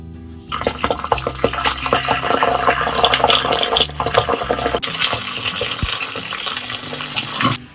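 Cumin seeds and ginger garlic paste sizzle and splutter in hot oil while being stirred, with crackling pops and scraping of a spoon against the pan, loud and close.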